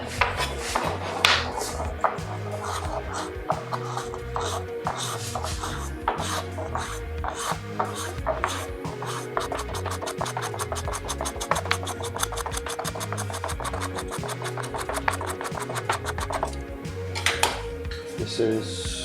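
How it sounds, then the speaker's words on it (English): A blade scrapes around the glued edges of a concave guitar cavity cover in close, repeated rasping strokes with a steady rhythm, with a few light knocks between passes. "So I need to go around, scrape the edges on the entire thing, and then try again"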